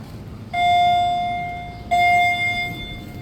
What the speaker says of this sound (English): It's got a new chime, but also that's a down chime, not an up chime.